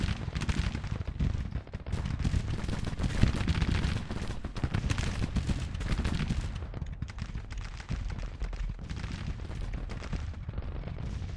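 Dense, continuous musket volleys and booming artillery fire roll through a Civil War battle in the strategy game Grand Tactician, loud and unbroken throughout with no voice over it.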